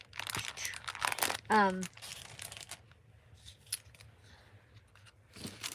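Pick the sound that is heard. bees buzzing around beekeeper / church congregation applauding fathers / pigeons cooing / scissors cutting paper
scissors cutting paper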